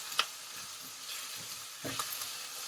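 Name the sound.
cut mushrooms sautéing with vegetables in a pan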